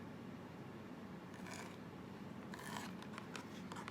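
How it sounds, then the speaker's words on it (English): A knife slices a zigzag strip from a carrot for a flower garnish, giving a few short crisp cutting crackles in two bursts over a steady low room hum. "I'm cutting a strip zigzag."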